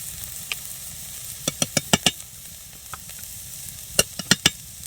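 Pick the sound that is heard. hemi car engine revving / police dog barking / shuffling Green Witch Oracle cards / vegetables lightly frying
vegetables lightly frying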